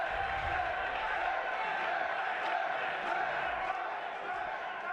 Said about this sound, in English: Oh, the crowd's into it.